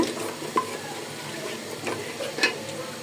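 Ground spice masala paste sizzles in a pan with a little water as it is stirred and fried, giving a soft steady hiss broken by a few scraping clinks of the spoon.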